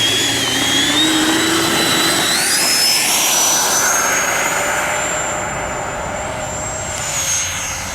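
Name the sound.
FMS Rafale 80mm radio-controlled jet taking off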